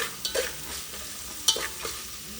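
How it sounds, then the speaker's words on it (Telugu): Salt is stirred into an egg and dal curry in a pan: a few soft spatula scrapes and one sharper knock over a low simmering sizzle, brief and close. "వేసుకున్న తర్వాత ఒకసారి కలుపుకోండి"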